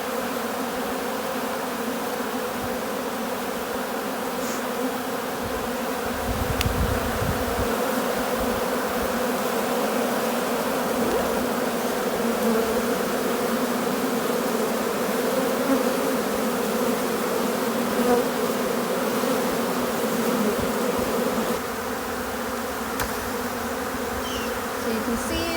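Honeybees drone around an opened beehive during early fall management, a dense, continuous close-up buzz that holds steady for the whole stretch, with a slight swell in the middle.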